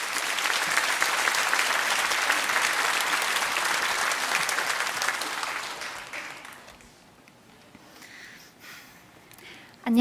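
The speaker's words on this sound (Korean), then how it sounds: "우리 조원정 자매 나올 때에 큰 박수로 그렇게 맞이해 주시면" A church congregation at Bundang Woori Church breaks into strong, dense applause to welcome a young woman coming up to speak, sustained for several seconds, then fading out, with a faint voice near the end.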